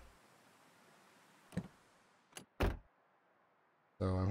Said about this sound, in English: Thing is, truck doors make noise.